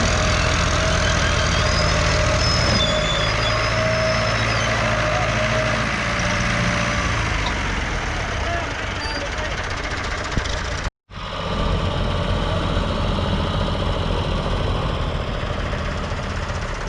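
A Fiat 480 tractor engine running during a tractor pulling stunt gives a steady, knocking diesel idle that drones on continuously, with one brief cutout partway through.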